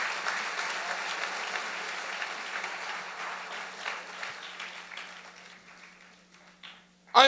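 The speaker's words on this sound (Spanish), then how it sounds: "Dale un aplauso al Rey bendito." A church congregation claps loudly and steadily for several seconds during a Spanish-language service; the applause slowly thins and fades out, and a short burst of sound comes at the very end.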